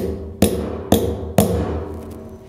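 Three sharp, evenly spaced hammer taps drive a bushing into an aluminium Crank Brothers bike pedal body, each close and ringing briefly before fading, with no talking.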